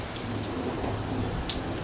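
Steady rain falls outdoors in the River Valley, a dense, even hiss with a few brief louder spatters, constant throughout with no voices.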